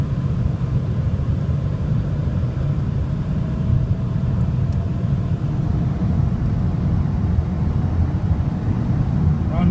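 A Ford Taurus with a 3.0 OHV Vulcan engine, running after new spark plugs and wires, gives a steady low rumbling idle, continuous and fairly loud with no pauses.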